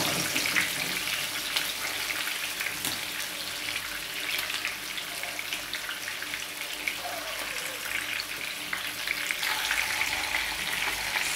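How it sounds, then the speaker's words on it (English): Chicken for a Jamaican pot roast frying over low heat in a pot, giving a steady, even sizzle that runs throughout with faint clinks and no voices. "So I'm gonna let it fry on low heat."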